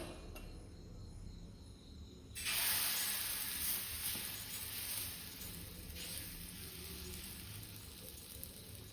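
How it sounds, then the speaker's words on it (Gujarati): Besan pudla batter hitting a hot oiled iron griddle, a sudden bright hiss that swells into a steady sizzle and holds, fairly quiet and close with no talking. "લોઢી પણ ગરમ થઈ ગઈ છે તો એમાં આપણે બેટર એડ કરીને પુડલા બનાવશું।"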